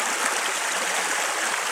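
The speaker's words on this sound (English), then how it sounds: "this beck wasn't running then as much as it is now" A beck runs steadily with a full, close rushing of water that holds a constant level throughout, with no other sounds.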